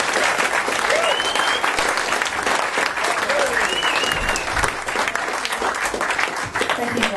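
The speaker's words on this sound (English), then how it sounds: "So I think they deserve a very deep round of applause." An audience at a folk concert in Manley gives a band a sustained round of applause, dense and steady clapping filling the room with faint whistles mixed in.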